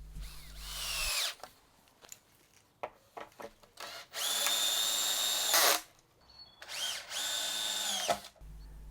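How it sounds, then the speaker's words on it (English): A power drill drives 90mm decking screws into a wooden floor frame, three long loud whirring runs separated by short clicks and handling knocks, no talk. "I can just get these 4 bits screwed together. I'm using some 90mm long decking screws for this."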